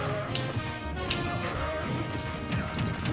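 A smash attack lands in Super Smash Bros. Ultimate with a loud crashing impact, packed among dense game effects and music that carry on steadily throughout.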